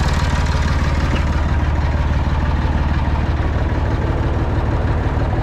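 A tractor engine runs steadily at a low, heavy rumble, loud and close, continuous with no change in pace and no voices.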